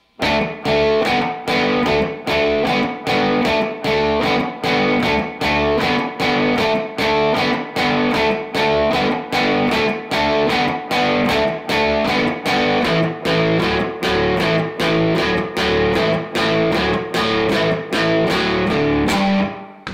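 A distorted electric guitar chugs through a repeating verse riff in a steady, driving rhythm, loud and continuous, with no voices.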